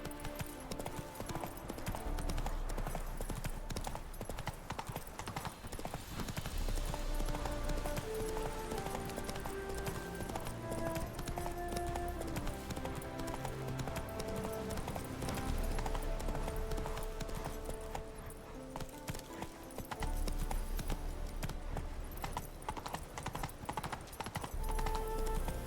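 In The Witcher 3 video game, the horse Roach gallops with rapid, rhythmic hoof clip-clops that continue for a long stretch at moderate volume, mixed with game ambience.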